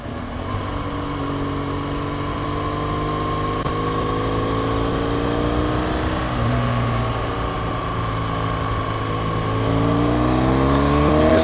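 BMW GS1200 motorcycle engine on a winding mountain road in western North Carolina, a steady close drone with shifting harmonic tones as revs rise and fall, wind rush underneath.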